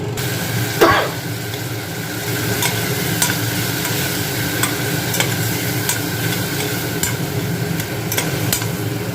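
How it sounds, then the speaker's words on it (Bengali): Spice masala fries in a Prestige Triply pressure cooker for fish-head moong dal: a steady close sizzle with a low background hum, broken by several sharp scraping clicks of stirring spread through the stretch. "তো মশলাটা একটু ভাজা হোক"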